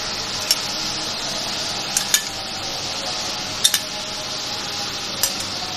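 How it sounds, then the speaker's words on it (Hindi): Yogurt is stirred into chicken pulao frying in a pot, giving a steady soft sizzle broken by a few sharp clinks of a spoon against the pot. "दही डाल रहे हैं।"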